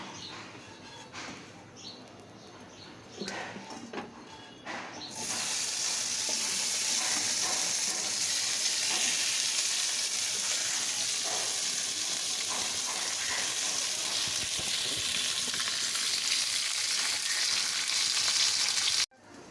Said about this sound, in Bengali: তেল দিয়ে আলু বেগুনটা ভালো করে ভেজে নিচ্ছি